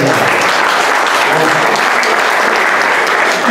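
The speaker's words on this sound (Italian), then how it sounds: "Quindi un applauso ai giovani." Sustained, dense applause from a large audience at an Italian gathering, loud and steady throughout with no pauses.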